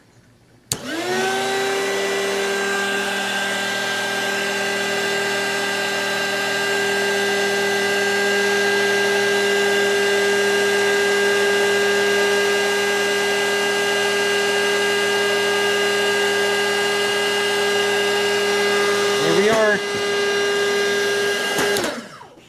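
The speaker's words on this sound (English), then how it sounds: "You can use a hairdryer." A hair dryer, used to heat the plastic of a broken multimeter lead, switches on with a steady whining hum and blowing rush that holds constant for about twenty seconds, with a brief wobble before it cuts off.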